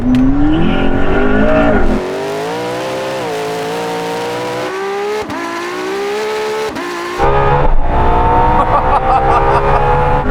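A LaFerrari, Porsche 918 and McLaren P1 race flat out from a rolling 100 km/h, their engines howling loudly and climbing through gears together, with brief shifts and a surge near the end.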